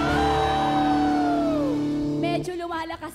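Worshippers at a JIL Mangaldan praise and worship gathering shout together over sustained music, with long voiced cries sliding downward in pitch. After about two seconds the shout breaks into choppier, scattered yells.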